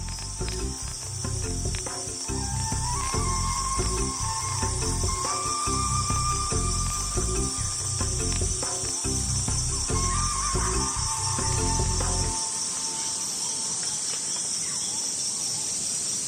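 Cicadas sing in a tropical forest, a loud, steady buzzing drone with pulsing rhythmic bursts that continues for about twelve seconds, then cuts off, leaving faint background hiss.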